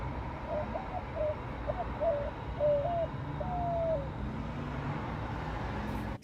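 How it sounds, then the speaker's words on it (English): A dove-like bird coos in a run of short repeated phrases on a sunny rooftop in Texas, moderately close and steady over a low outdoor hum, with a longer drawn-out call at the end. "there was a bird that was singing to me"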